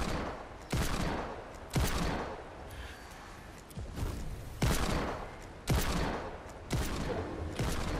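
Hand cannon gunfire in a shooter video game: heavy single shots crack out at irregular intervals, each a loud sharp blast with a booming tail, about eight in quick succession.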